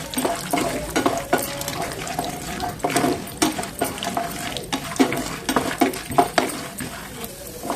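Mustard seeds, cumin, peanuts, chana dal and urad dal frying in oil in a pan, a steady crackle and sizzle broken by repeated sharp scraping and stirring clicks of a spoon against the pan, with no talk.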